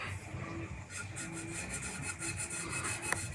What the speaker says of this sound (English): Especially when you're using an old magic marker.